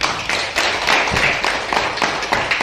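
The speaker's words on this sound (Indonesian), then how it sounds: "mari kita tepuk tangan" A primary-school class claps hands together on the teacher's cue, a dense patter of many small hands in a room, moderately loud, with faint voices underneath.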